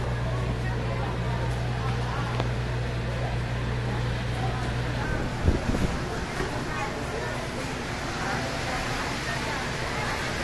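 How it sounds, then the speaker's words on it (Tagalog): Strong typhoon wind at a fish market makes a steady broadband roar and rumble that buffets the microphone throughout, with a brief thump of handling or bumping partway through. "ang lakas ng hangin"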